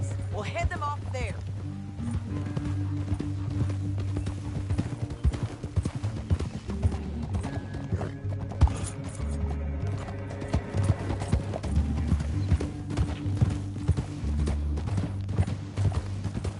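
Steady rhythmic clip-clop of horse hooves riding through the Red Dead Redemption video game, continuing throughout at moderate level beneath voices and background ambience.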